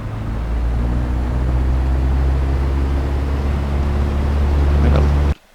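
A small aircraft engine, from the plane N8033F, drones steadily and loudly at close range with a constant low hum and rising power, then cuts off abruptly near the end.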